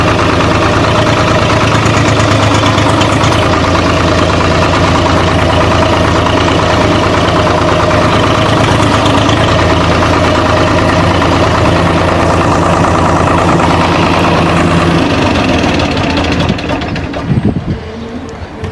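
A 2022 Swaraj 742 XT tractor engine runs loud and close, a steady diesel chug throughout that eases slightly near the end.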